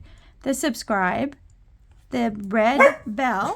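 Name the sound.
dog barking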